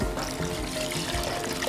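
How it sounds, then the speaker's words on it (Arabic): Boiling water is poured onto rice in a cooking pot, a steady close gurgling stream with splashing that runs continuously without talk. "ماء مغلية للرز"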